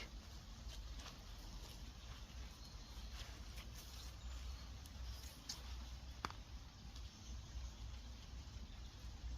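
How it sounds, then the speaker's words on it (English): Steady soft patter of rain dripping off trees with occasional louder drips landing nearby, a continuous quiet outdoor wash with no voices. "rain coming off the trees"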